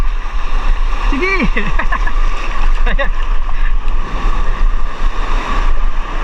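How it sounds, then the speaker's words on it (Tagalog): Big high-tide waves roll and splash near Anajao Island, a steady loud surf with wind buffeting the microphone, under brief shouted voices. "Malaki yung alon."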